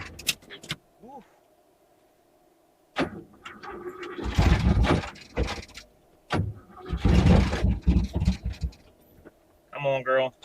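An old truck with no clutch is cranked to start, its engine churning in two rough bursts separated by quiet gaps. Voices speak between and around the attempts.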